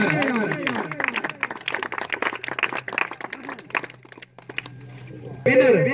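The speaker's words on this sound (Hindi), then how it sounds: "जोरदार तालियां यार।" Crowd applause breaks out at a volleyball match prize-giving in Dullar, Azad Kashmir: dense, steady clapping with a voice over it, ending in a louder burst near the close.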